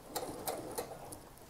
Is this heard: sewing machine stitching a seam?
yes